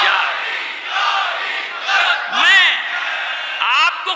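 Audience at a Shia majlis raising a loud collective chant, a swelling crowd roar with whoops rising in bursts over a steady murmur of many voices.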